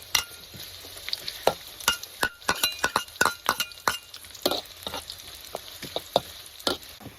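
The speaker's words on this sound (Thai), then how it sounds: "หลังจากนั้นเราก็ใส่ หอมนะลงไปนะเพื่อไปเจียวนะเจียวพอต้องเหลืองนะ" Sliced shallots frying in hot oil for a crispy garnish, with a steady sizzle punctuated by sharp clinks and scrapes of a utensil stirring in the pan, close and without talk.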